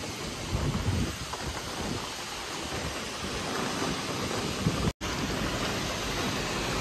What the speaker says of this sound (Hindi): ये बात भाई साहब बड़ी तगड़ी बारिश शुरू हो गई है तगड़ी बारिश।